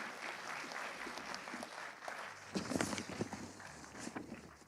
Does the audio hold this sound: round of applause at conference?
yes